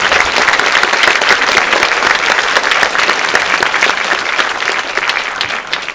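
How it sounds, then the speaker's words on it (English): A theater audience at a FrightFest film Q&A breaks into loud, sustained clapping, dense and close, tapering slightly toward the end. "Round of applause."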